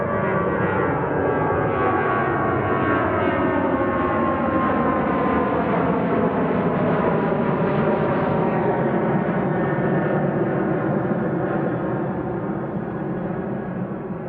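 A brand-new Airbus A321neo airliner with a blue tail and unfinished decals, at Manchester Airport, gives a steady, loud broadband jet roar that holds for the whole stretch with a slow shifting drone and no talk.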